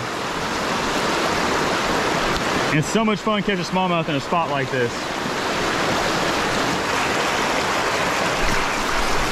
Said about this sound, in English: These waterfalls are amazing.